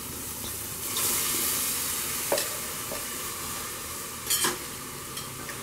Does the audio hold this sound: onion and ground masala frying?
yes